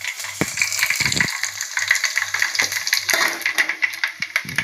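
Cumin seeds sizzle in hot oil in a home kitchen, a close, steady crackling fry with bright hissing and spitting, punctuated by a few soft clinks and stirring scrapes, with no talk.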